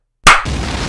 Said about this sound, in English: Put the explosion on.